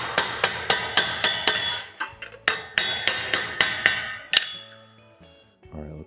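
Hand hammer beating sheet metal for a custom rat rod truck body panel: a rapid series of sharp, ringing metallic strikes, loud and close, pausing briefly and resuming before trailing off into quiet.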